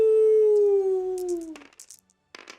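A voice imitates a wolf howl, one long sustained call sliding slowly downward in pitch before breaking off, followed by a few faint clicks and a short pause.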